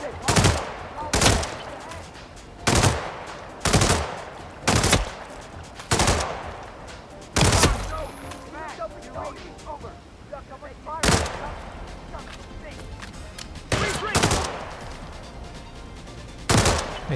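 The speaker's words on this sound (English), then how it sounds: "Or we could just pick up a machine gun." Machine gun fire from the video game Hitman comes in loud, sharp bursts at irregular intervals, each a quick cluster of shots, with brief gaps of quieter game sound in between.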